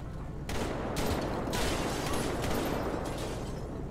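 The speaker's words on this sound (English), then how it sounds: "I'm trying to see if I can draw his gunfire out." Gunfire in the video game GTA 5 during a police shootout in Los Santos, several sharp bursts of shots crack out over a noisy background, fairly close and loud.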